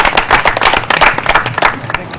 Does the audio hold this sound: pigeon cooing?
no